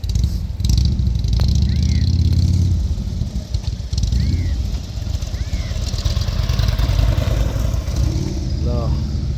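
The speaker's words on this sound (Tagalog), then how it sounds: "Dami lang mga bossing, mga 10 motor sila ito." A group of about ten motorcycles passes by near a seaside road, a loud continuous engine drone swelling and fading as the bikes go past, with someone talking over it.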